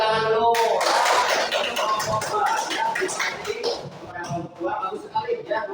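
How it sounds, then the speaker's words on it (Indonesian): Group of people clapping hands together in a classroom after a student presentation, a dense burst of many hands close by that gradually thins and trails off, with voices murmuring underneath. "Tepuk tangan dulu"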